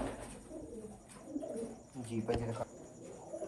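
Outclass breeder pigeons coo softly in a loft while someone talks over them, the low throaty calls faint and intermittent beneath his voice.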